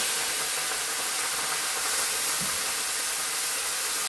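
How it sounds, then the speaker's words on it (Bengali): Small fish frying in a pan, a constant dense hiss of hot oil that holds steady and loud throughout with no talk. "এই পাশে আমি এখন মাছ ভাজবো। চলো মাছগুলো ভেজে নিই।"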